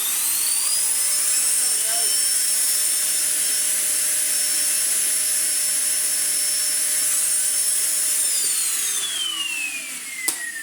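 Small turbo brush head on a Sebo Airbelt K Pet vacuum spinning at full speed, a loud, steady high whine with a constant airy rush, winding down near the end.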